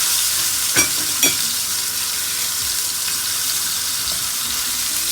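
Sirloin steak frying in a hot pan gives a loud, continuous hiss with a couple of sharp pops and clinks near the start, alone without talk.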